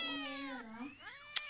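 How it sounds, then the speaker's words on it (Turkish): A cat meows in a drawn-out, wavering cry that rises and falls, heard close and alone, ending with a short sharp click. "Ciyak ciyak kedi sesi."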